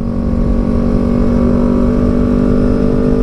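A Yamaha R25 cafe racer motorcycle with a new aftermarket exhaust, its engine droning loud and steady as it pulls under throttle, a close continuous rumble.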